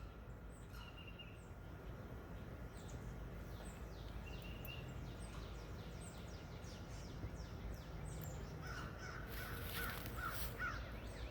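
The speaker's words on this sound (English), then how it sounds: "And these annoying crows too." Several crows caw in faint, repeated bursts around a forest, some distant and some nearer, over steady outdoor background noise with a few other bird calls toward the end.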